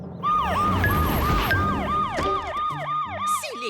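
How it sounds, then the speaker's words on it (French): A cartoon fire engine siren wails loudly and continuously in rapid repeating sweeps, dominating the scene with no voices over it. "La sirène des pompiers est beaucoup trop bruyante."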